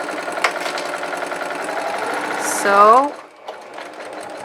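A sewing machine stitches a fabric mask in chain-piecing fashion, running fast and steady for nearly three seconds before winding down with a falling whine and stopping; a voice speaks briefly.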